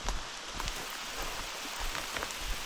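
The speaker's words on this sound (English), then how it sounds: "Still raining pretty good" Steady rain falling outdoors near a parked Jeep after a backcountry hike, a soft, even patter of drops throughout.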